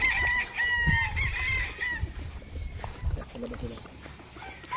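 A golden monkey sweater gamefowl rooster on a farm crows nearby, with clucking and other fowl around while people talk over it.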